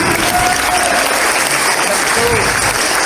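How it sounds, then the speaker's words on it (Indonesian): Loud, sustained applause from a crowd fills the whole stretch, with faint voices mixed in beneath the clapping. "Tepuk tangan"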